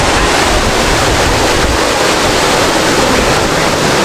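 Constant roaring rush of water from a waterfall, loud and close, filling the whole stretch without pause and no voices heard.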